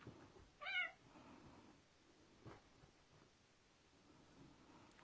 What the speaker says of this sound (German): das ist kein Kämpfen, was die machen. So spielen Katzen.